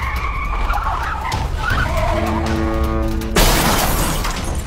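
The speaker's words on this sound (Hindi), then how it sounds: "अचानक उसकी गाड़ी का नियंत्रण बिगड़ गया" A car skids with a long tyre screech while losing control, ending in a sudden loud crash of shattering glass and crunching metal, heard close and alone.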